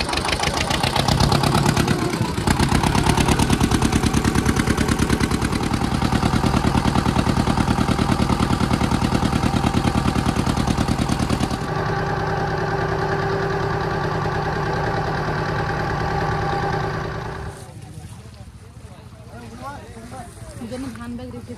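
A boat's engine drones loud and steady during a river crossing to Mousuni Island, shifting in tone partway through and then dropping to a quieter rumble near the end.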